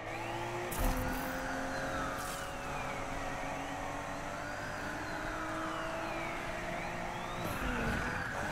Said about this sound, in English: Is that the sound of the police?